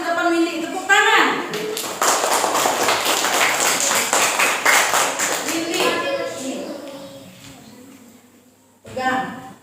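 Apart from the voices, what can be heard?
classroom applause, students clapping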